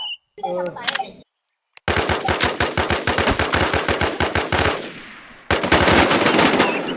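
Automatic gunfire in the Infestation survival shooter game rattles out in long, loud, evenly spaced bursts that pause briefly and resume, preceded by a few scattered sounds and short bits of talk.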